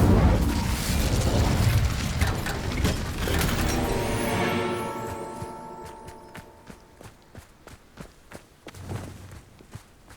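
Incendio fire spell cast in Hogwarts Legacy: a loud rushing burst of flame that swells for a few seconds and then breaks into a scatter of crackles and small knocks as it fades, with no voices.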